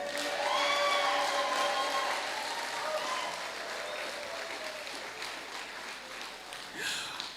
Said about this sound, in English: So I'm going to ask you to clap yet again.